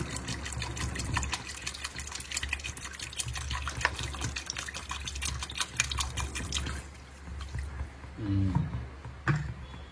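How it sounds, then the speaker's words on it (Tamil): Water gushes into a cooking pot for chicken seeraga samba biryani made with 1 kg of rice, a steady close pouring and splashing that fades near the end, with a voice briefly heard. "தண்ணி இப்போ ஆட் பண்ணிடுவோம்"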